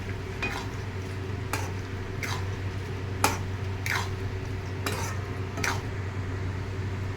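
Spatula stirring pre-fried eggs into an egg tadka in a pan, with several soft scraping strokes spread evenly over a steady low background hum and faint sizzle, no voices.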